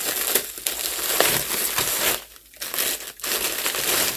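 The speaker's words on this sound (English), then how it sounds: "I'm going to get a Ziploc bag for the ice cream." A plastic Ziploc bag crinkles and crushes by a freezer, with continuous rustling that breaks off briefly twice before resuming close to the microphone.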